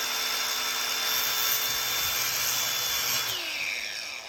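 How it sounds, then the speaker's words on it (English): An angle grinder fitted with a cutoff wheel notches a piece of PVC pipe, giving a steady high whine with a grinding edge that drops in pitch and trails off as the wheel spins down near the end. "Then I took my angle grinder with a cutoff wheel and simply, because there's 6, they're straight across from each other, simply put a small notch on each side"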